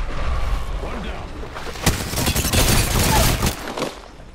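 Sniper rifle shots crack in a battle royale video game, several sharp reports and bursts of distant gunfire rolling over a noisy battlefield, with players talking over the action.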